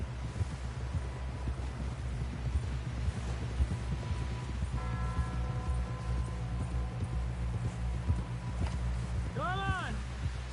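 Horse hooves clip-clop at a steady trotting rhythm in the Red Dead Redemption story mode, soft and low beneath wind, ambient hum and a brief tonal game cue near the end.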